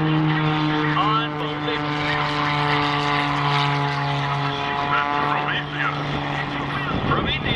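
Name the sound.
aircraft taking off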